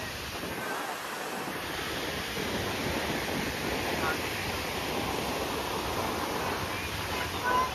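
Steady broadband surf from sea waves rolls on at Puri beach, a constant wash of breaking water mixed with wind buffeting the microphone, with faint voices in the background.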